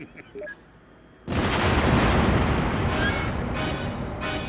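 A massive nuclear missile explosion in the Sam & Max video game erupts after a brief quiet moment, a loud sustained roaring blast that rumbles on and slowly fades.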